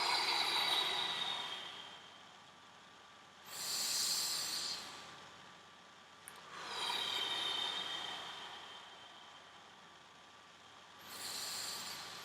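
Slow, soft breaths during a sophrology breathing exercise, with long, airy, hissing exhales at an unhurried pace with pauses in between, quiet and close, and no talking.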